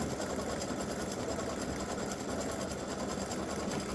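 An embroidery sewing machine stitching a free-standing lace bow earring set at about 600 stitches per minute, producing a loud, steady, rapid mechanical whir that runs unbroken from start to finish.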